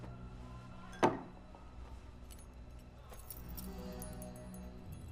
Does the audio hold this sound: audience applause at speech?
no